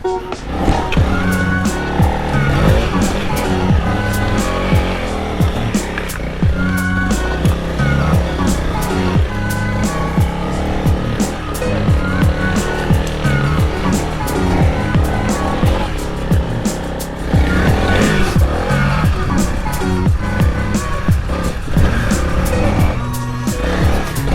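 Off-road ride on a 300L enduro dual sport motorcycle, the engine loud and close throughout with its revs rising and falling over rough terrain, while a voice is heard faintly at times.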